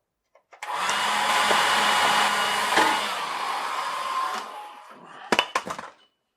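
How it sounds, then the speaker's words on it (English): An old hair dryer, used to heat a stuck bicycle cotter-pin bottom bracket, blows with a steady loud whooshing roar for about four seconds, then winds down, followed by a few sharp metallic knocks. "I'm using an old hair dryer"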